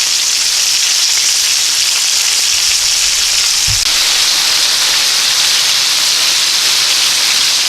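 Chicken pieces for chicken marsala fry in a pan with a loud, steady broad sizzle and hiss throughout, and a brief low thump partway through, no talking.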